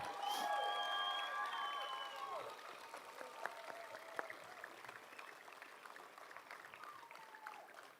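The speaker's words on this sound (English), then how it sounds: "let's give another round of applause to all of our graduates" Graduates at a Choice High School graduation ceremony get applause and cheering from the crowd, loudest at first with whoops and shouts, then settling into quieter scattered clapping.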